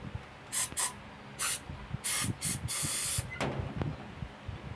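Several short bursts of aerosol spray cleaner on a motorcycle cylinder head, an XRM125, with uneven gaps between the hisses and one longer sustained spray near the end, close and fairly quiet over light background noise.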